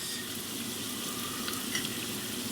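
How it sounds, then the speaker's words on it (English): Beef sirloin bites sizzle loudly in a pan with melted garlic butter, a steady, dense crackling hiss that continues without pause. "Mix the garlic butter in quite nice."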